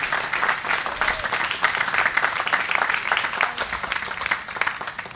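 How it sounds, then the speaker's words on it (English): Sustained applause from a crowd at a community anniversary event for Ceasefire Night Walks, dense steady clapping filling the whole stretch at an even, moderately loud level with no voices over it. "let's give all ourselves a round of applause for the great work that we're doing"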